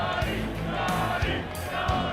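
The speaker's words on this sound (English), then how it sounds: "The crowd chanting Scottie, Scottie" A golf gallery at the PGA Championship chants a player's name in a steady, rhythmic, repeated call, loud and massed, with crowd noise filling the background.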